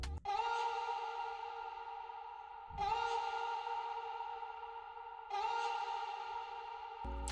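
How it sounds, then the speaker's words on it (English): A vocal effect from an FL Studio remake of a song, processed with Valhalla Supermassive reverb: three sustained, tonal vocal phrases repeat at steady intervals, each swelling in and trailing into a long, washy reverb tail, loud and alone. "we have this vocal effects that was used at some point in the song"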